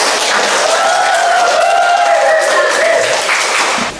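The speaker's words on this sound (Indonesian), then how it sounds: "kita beri aplaus untuk" Audience applause in a classroom-style gathering, a steady, loud wash of many hands clapping for about four seconds before it tapers off abruptly at the end.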